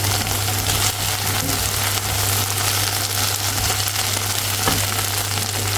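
Okra sautéing in a pan with onions, giving a loud, dense, continuous sizzle up close with occasional faint stirring knocks.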